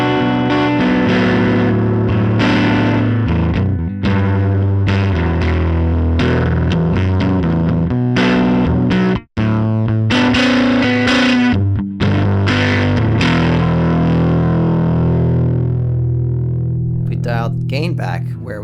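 An electric guitar plays through a Beetronics Wannabee dual overdrive pedal with the drive set high, giving loud, thick distorted chords and riffs with a brief gap midway and trailing notes at the end.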